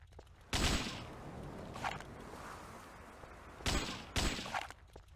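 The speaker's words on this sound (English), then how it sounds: "You shoot aliens." Gunfire from the video game Alien Shooter 2 while shooting aliens, a few loud short bursts of shots separated by quieter stretches, no speech.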